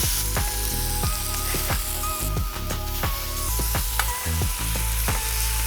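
Marinated salmon fillet sizzling on a Steelmade flat top after being flipped, a dense continuous hiss with scattered crackles and pops, close and steady, no talking.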